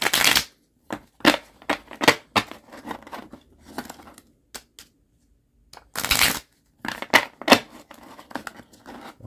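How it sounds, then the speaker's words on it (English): A deck of playing cards is shuffled by hand in several close, crisp bursts of riffling and flicking, separated by short quiet gaps, with no talking. "Now, let me shuffle 3 times."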